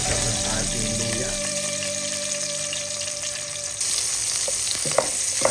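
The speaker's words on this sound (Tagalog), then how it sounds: "Gisa-gisa lang natin." Garlic, onion and ginger sautéing in hot oil for Filipino mung bean stew, a steady loud sizzle with occasional stirring scrapes and clinks, spoken talk lightly over it.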